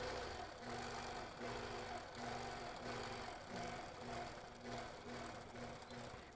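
A sewing machine stitches quilt curls and coils on a flying geese block in a steady, continuous mechanical whir, its rhythmic needle pulsing running throughout at moderate level.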